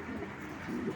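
A pair of large pigeons coos in low, warbling bursts that swell again near the end, close by with no talking.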